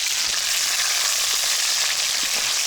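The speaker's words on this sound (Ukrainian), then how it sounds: "Я вже розігрів олію і закинув м'ясо." Meat frying in hot oil over a campfire gives off a loud, steady sizzle and hiss that runs without a break, close up and with no voices.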